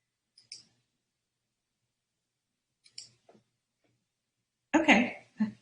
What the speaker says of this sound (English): I'm just a slow typer